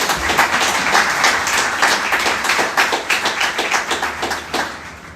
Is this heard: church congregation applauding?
yes